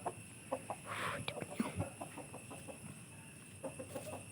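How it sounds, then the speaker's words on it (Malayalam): A backyard chicken clucks in a series of short, uneven calls, fairly close, with a steady electrical hum in the background. "ഇത് ഞങ്ങൾ ഇവിടുത്തെ കോഴിയാണോ."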